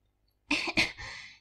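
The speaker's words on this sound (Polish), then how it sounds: "Nie mogę przestać kaszleć." A character in a video game coughs in a quick pair of harsh, close bursts followed by a raspy trailing breath, alone against silence.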